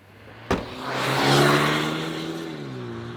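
A 2025 Kia K4 pulls away on the road after a sharp thump, its engine note rising and swelling as it accelerates, then settling into a steady mid-pitched hum with tire and road noise, heard from inside the cabin.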